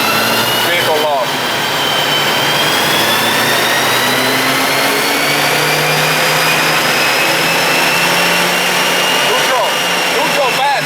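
A Stage 2 MK6 GTI running on E40 fuel revs hard on a dyno, a loud, sustained engine roar whose pitch climbs steadily through the pull, with a couple of brief squeaks near the start and end.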